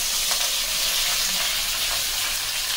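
Beans frying in hot oil in a pan, a loud, steady sizzle throughout, close and continuous with faint stirring.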